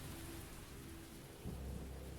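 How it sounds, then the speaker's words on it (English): Heavy rain pours steadily throughout, with a deep thunder rumble swelling near the end; the storm sounds close and fairly loud, with no voices. "As it begins raining for a moment, you hear lightning strike"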